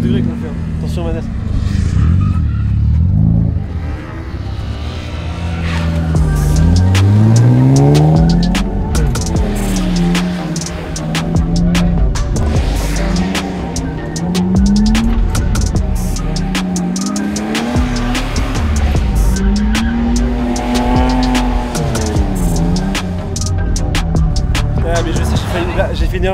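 Car making sharp 90-degree stunt turns during a chase-style driving exercise, tires squealing in repeated rising and falling whines over a loud engine, with people talking throughout.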